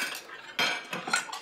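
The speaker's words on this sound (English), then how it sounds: "I'll do the dishes." Dishes and cutlery clink and clatter as they are gathered up after a meal, several bright metallic and ceramic knocks close by in quick irregular succession, with no talking.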